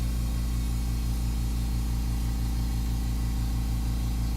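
Spray paint hisses continuously and loudly while greenhouse graphics are painted, a steady broadband rush with a pulsing low hum beneath it and no pauses.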